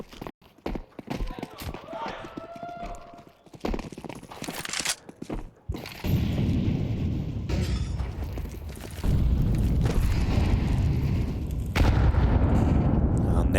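A grenade lands on stairs and explodes in a Counter-Strike esports match. Sharp gunfire crackles and a few booms sit over a heavy, roaring blast wash that swells and fills the second half. A busy game soundscape carries the detonation.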